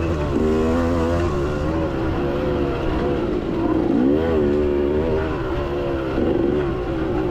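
A motorcycle rides a tight, flowy road course at the Frackville races, its engine droning steadily up close with rising and falling revs through the turns, loud and continuous throughout.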